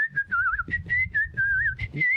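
A person whistles a short, wavering melody of several bright notes with small gaps between phrases, close and clear, with faint background murmur beneath.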